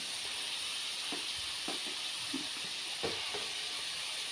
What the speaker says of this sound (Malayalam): ഇനി നമുക്ക് ഇതിനകത്ത് ഈ ഇല വാരിയിടാം.